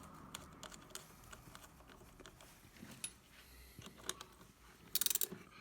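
A wrench tightening a nut on the axle of a Honda Dax ST70 while changing the ignition seal: faint, scattered metallic clicks and taps, ending in a quick burst of rapid ratcheting clicks, close and quiet.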